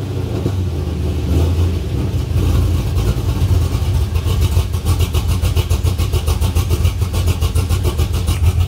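Cammed Pontiac GTO with an LS2 6.0L V8 running steadily, a loud, close, continuous low rumble with a choppy lopey pulse throughout, no talking.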